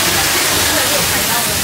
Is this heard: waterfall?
yes